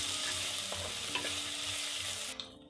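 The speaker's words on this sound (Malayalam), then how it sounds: "ഇനി ഇതും കൂടെ ഒന്ന് വഴറ്റിയെടുക്കുക." Chopped jackfruit seeds sizzling and frying as they are stirred and sautéed in a pan, a steady loud hiss with soft scraping stirs, easing off near the end.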